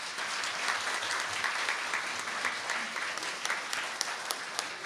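A church congregation applauds the choir, conductor and organ accompanist at a Christmas Day service, giving steady, dense clapping that fills the room evenly at moderate volume with a few sharper individual claps standing out.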